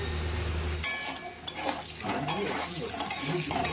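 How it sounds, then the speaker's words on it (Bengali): Cut potatoes fry in a pan with salt and turmeric, a steady sizzle under the clink and scrape of a spoon stirring against the metal, close by. "লবণ হলুদ দিয়ে আলুগুলিকে আরও সুন্দরভাবে ভেজে নিয়েছি"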